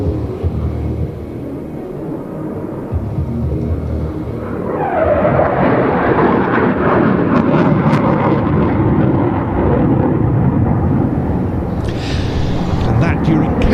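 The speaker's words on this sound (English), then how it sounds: "This is a single-seat Rafale C model." A single-seat Dassault Rafale C fighter jet roars past at an air show, its loud, broad rumble building and sustaining as it passes, with crowd noise and announcer commentary underneath.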